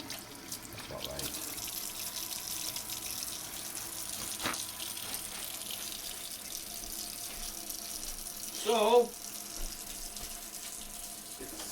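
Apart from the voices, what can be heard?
warm water running from a tap for bread making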